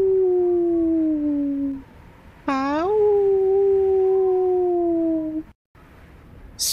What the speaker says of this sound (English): the howling seems weaker now that I'm outside